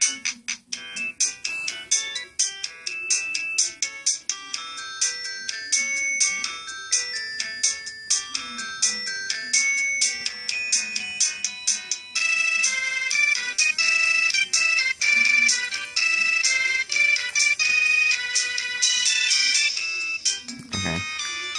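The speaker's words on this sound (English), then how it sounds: "I think this is the ugliest ringtone I've ever heard" Melodic electronic ringtone playing from a Samsung SCH-U340 flip phone, a bright chiming bell-like tune with rapid repeating notes, loud and close, ending abruptly.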